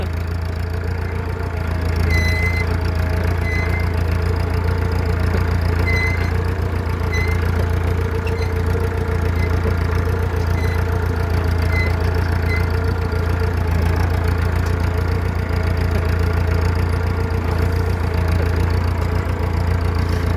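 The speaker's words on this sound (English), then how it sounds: "it's extremely hot up here because of the massive diesel engine" A massive diesel engine idles close by with a heavy, steady low rumble and a regular rhythmic knock, continuous and loud for the whole stretch with no talking.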